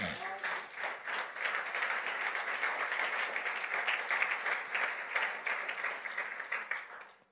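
A church congregation bursts into sustained applause and cheering, dense rapid clapping that swells quickly, holds for several seconds and then fades out.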